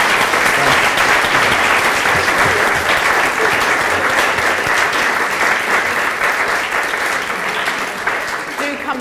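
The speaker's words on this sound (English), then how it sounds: "we should all give Philippe a very large round of applause for what is a tremendous achievement" Audience applauding after a law lecture at a university event, a dense sustained clapping from a large crowd that fades slightly toward the end.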